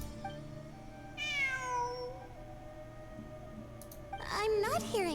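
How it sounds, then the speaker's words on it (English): A cat in the video game Genshin Impact meows twice, a clear drawn-out call and then a second one near the end, over quiet game music. "It really is a cat."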